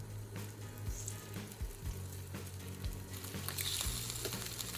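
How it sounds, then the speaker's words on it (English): Beef slices searing in a single layer in a hot skillet, a fairly soft, steady sizzle and crackle with a low rhythmic hum and occasional utensil taps beneath it. "heat a skillet until it's properly hot. Arrange the beef slices in a single layer."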